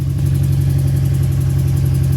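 A 2003 Subaru WRX idling with an exhaust leak, a close, loud, steady engine burble with a rapid pulsing ticking rhythm and no voices.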